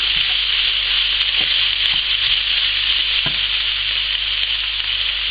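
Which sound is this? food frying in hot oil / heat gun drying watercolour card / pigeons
food frying in hot oil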